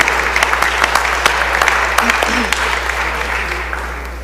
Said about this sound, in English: Will y'all please give them a round of applause and welcome them